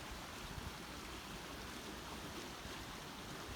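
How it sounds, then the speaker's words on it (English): Gushing water pours steadily outdoors, a dense broadband rush with wind buffeting the microphone throughout. "I figured why not underline my words with the gushing water"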